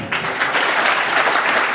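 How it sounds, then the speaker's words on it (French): An audience at an evening hypnosis show applauds warmly, dense steady clapping from a full room that continues without pause. "je crois qu'on va commencer par l'applaudir lui chaleureusement."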